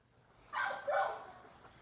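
An overwhelmed dog whimpers and gives two short, close vocal bursts in quick succession, fairly loud against a quiet room, then falls silent.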